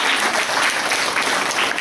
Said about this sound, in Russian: Аплодисменты еще раз ей.